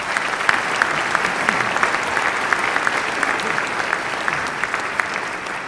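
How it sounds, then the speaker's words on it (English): An audience claps steadily for a health-care partner groups' acknowledgment, a dense, even wash of applause held at moderate loudness for several seconds with no voices over it. "We've got to get a round of applause for those groups."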